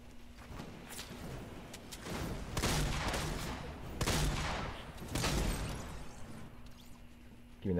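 Gunfire in the Fortnite battle royale video game, several bursts of rapid shots with thumping impacts, loud in the mix over steady background game noise.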